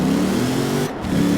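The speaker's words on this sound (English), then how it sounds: "Lots and lots of wheel spin." A four-wheel-drive Chevrolet ZR2 in Forza Horizon 4 launches hard with heavy wheel spin, its engine roaring loud and steady with a low droning tone and a brief dip near the end before surging again.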